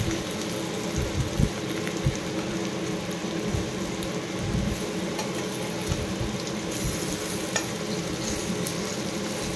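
Raw banana fritters (bara) frying in mustard oil, a steady soft crackling sizzle with faint bubbling and occasional utensil taps, close and quiet with no talk.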